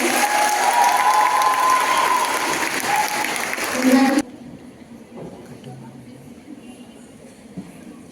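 An audience at an academic ceremony applauds the Department of Sociology position holders, loud sustained clapping with some cheering that cuts off abruptly midway, followed by quiet room noise and faint sounds.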